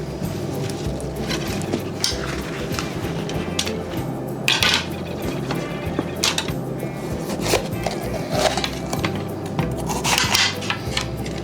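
A knife slices washed bell peppers into long thin strips on a cutting board, giving a steady run of soft, fairly quiet chopping taps with a few sharper knocks.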